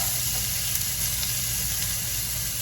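Trader Joe's vegan Turkey Less Ground browning in a pan gives a loud, steady, close sizzle that hisses evenly without pause and without anyone talking.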